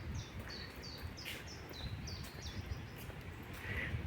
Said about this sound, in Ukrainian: Тут співають пташки.